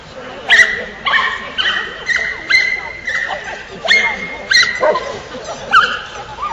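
A dog barks repeatedly at an agility competition in Warsaw, sharp yips and barks arriving in an irregular rhythm of about ten bursts over steady commentary and crowd chatter.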